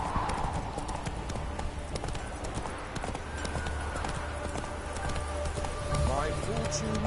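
A horse gallops in The Witcher 3: Wild Hunt, rapid rhythmic hoofbeats pounding steadily over a continuous bed of ambient game sound and a low rumble.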